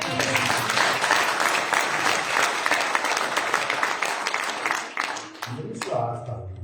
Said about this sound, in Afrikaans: Klap hande.